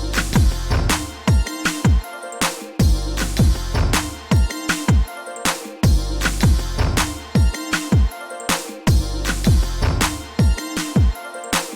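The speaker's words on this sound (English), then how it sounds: "I finished the drum pattern by running it off with our kicks" Electronic drum pattern of punchy kicks, claps and snares in a steady looping groove, loud and alone with no talking.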